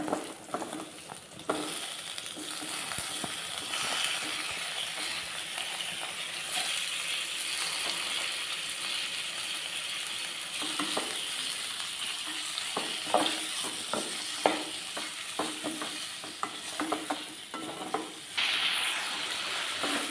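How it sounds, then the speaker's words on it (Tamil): Onion and tomato fry in oil in a kadai for tomato chutney, giving a steady sizzle broken by frequent scraping and clattering stirs throughout. "வெங்காயம் தக்காளி வதக்கிக்கலாங்க."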